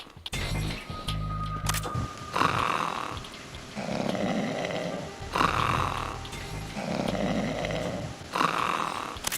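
In Metal Gear Solid 2, a guard snores in loud, close, rasping cycles, about four drawn-out breaths in a slow steady rhythm with brief pauses between, over faint game ambience and a short tone near the start.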